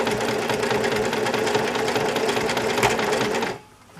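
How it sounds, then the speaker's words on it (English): A sewing machine stitches steadily along a thick apron seam, a loud continuous mechanical whir with fast rhythmic knocking that runs alone for several seconds, then cuts off abruptly near the end. "My machine does not like that thick seam. And just sew along it."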